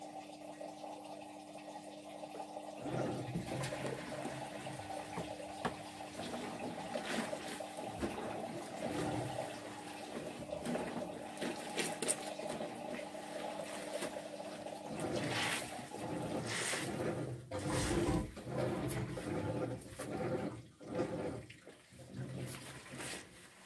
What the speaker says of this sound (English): let out the water now.